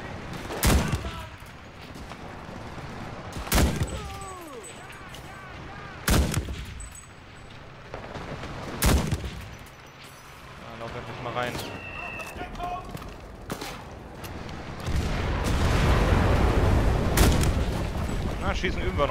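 Gunfire in the World War II shooter Enlisted, loud single shots cracking at irregular intervals over a steady battlefield rumble, with a heavier burst of fire building near the end while someone talks.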